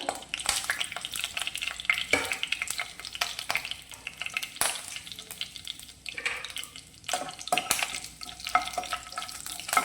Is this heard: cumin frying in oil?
yes